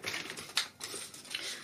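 Cardstock sliced on a paper trimmer, a few brief faint scratchy clicks and rasps heard close and alone.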